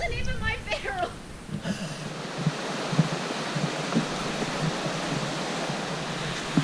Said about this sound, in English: You can probably hear the water rushing down beside me on my left.